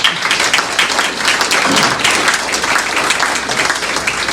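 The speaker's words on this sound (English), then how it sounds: "So let's give all these folks a round of applause." Loud, steady applause from a township meet-the-candidates audience, continuous clapping from a roomful of people throughout.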